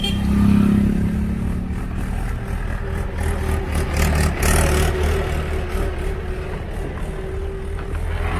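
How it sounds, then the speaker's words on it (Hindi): A tractor engine rumbles loudly and steadily nearby with a low, throbbing drone and some mechanical clatter, with no talking over it. "ट्रैक्टर आ गया है"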